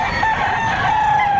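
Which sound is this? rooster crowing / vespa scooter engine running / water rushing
rooster crowing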